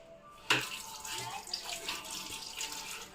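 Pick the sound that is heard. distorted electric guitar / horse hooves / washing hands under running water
washing hands under running water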